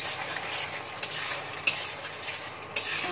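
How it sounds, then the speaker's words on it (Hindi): Gravy masala with Kashmiri red chilli powder and bay leaves roasting in a pan, a steady soft sizzle broken by a few sharp scrapes of a spoon stirring. "पहले थोड़ा सा मसाला पहले भूंज ले रही हूँ"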